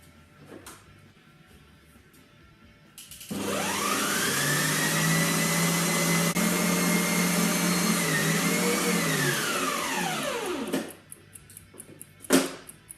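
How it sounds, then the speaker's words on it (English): A stand mixer runs on low speed through fruit cake batter, giving a steady motor whir for several seconds that starts abruptly and then winds down, with a faint clunk afterward. "Then just mix it again on a low stand for another 2 to 3 minutes."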